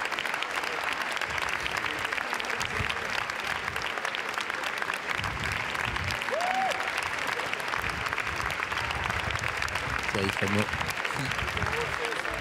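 Audience applause during the Cannes 2014 red-carpet arrival for Foxcatcher, a dense steady wash of clapping from a large crowd throughout, with a voice talking faintly over it.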